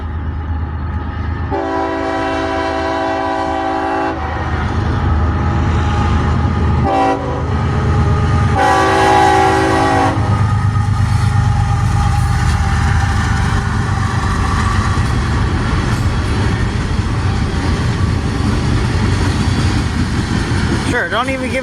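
A CSX freight train passes close by, sounding its horn in long chord blasts over a heavy rumbling roar of wheels and locomotive engine that builds and continues after the horn stops.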